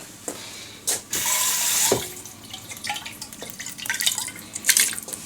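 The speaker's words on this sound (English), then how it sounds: "I'm going to rinse out my can real quick." Water from a sink tap runs into and over a can as it is rinsed out, with splashing and dripping bursts that rise and fall close by, without any talk.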